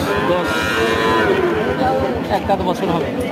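Australian Jersey cow, one year old, lowing at a livestock market, a drawn-out moo rising and falling over a few seconds while people talk nearby.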